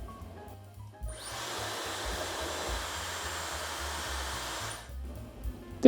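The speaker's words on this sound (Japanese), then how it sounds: "ダイソンのドライヤーがありました。" A Dyson hair dryer in a hot-spring inn washroom switches on and runs with a loud, steady high-pitched whoosh over a low tonal hum for about four seconds, then cuts off.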